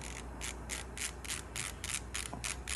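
Rapid repeated ratcheting clicks from turning a thread tension knob on an overlock sewing machine, a steady close run of crisp mechanical ticks with no talking.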